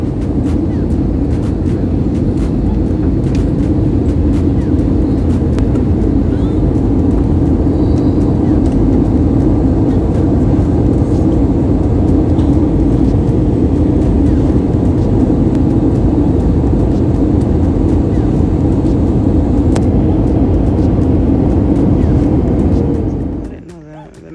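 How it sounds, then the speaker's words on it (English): Airliner cabin noise on the landing approach into Denver, a steady loud broadband engine and air roar with faint cabin clicks, cutting off abruptly at the end. "Flight attendants, prepare for landing."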